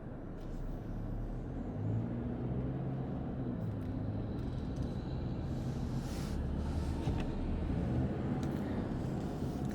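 A 2022 Hyundai Tucson XRT AWD on the road: steady low engine and tyre rumble heard from inside the cabin, continuous and fairly quiet, with faint higher road noise drifting through.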